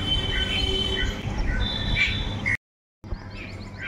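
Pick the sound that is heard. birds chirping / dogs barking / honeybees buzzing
birds chirping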